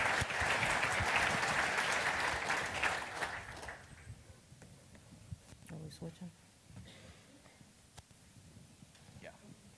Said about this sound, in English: give them a round of applause as they come up